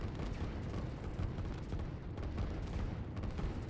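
Artillery in the real-time strategy game Line War booming in a dense, continuous barrage, with rapid overlapping thuds and blasts rolling on without pause and no voices.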